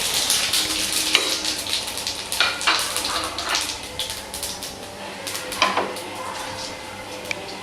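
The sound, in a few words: whole spices frying and crackling in hot oil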